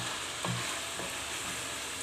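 Steady sizzling and crackling of onions and peppers frying in a hot pan, with a couple of soft utensil scrapes stirring them.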